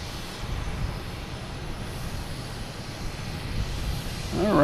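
A distant Aer Lingus airliner passes over Pleasure Bay near Boston Logan Airport, a steady low rumble that swells slightly toward the end.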